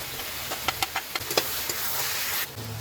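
Marinated chicken dropped into hot oil and spices in a pan, giving a steady close sizzle and hiss with a few sharp spattering pops early on, no talk.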